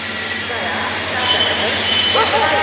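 Steady, continuous rumble and rattle of the Bareilly Express passenger train rolling out of Varanasi Junction, heard from inside a general-class carriage.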